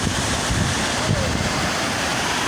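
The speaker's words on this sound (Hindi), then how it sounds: "आबशार कहाँ से आ रही है, और फुहार काफ़ी तेज़ है यहाँ पे, हवा बहुत तेज़" Waterfall spray and strong wind make a constant, dense roaring hiss that fills the scene at close range, with wind buffeting the microphone throughout.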